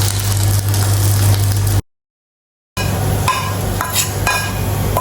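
Okra goes into a hot sizzling pan and is stirred, a steady loud frying hiss with scraping strokes, briefly cutting out before resuming, close up during festive Onam sadhya cooking.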